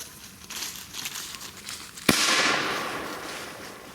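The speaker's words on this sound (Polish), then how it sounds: "to był czarny proch. Czarny proch nie wybucha tak głośno." A black powder firework goes off outdoors at night with a sudden sharp crack, then a loud crackling hiss that fades over the next two seconds, preceded by faint rustling.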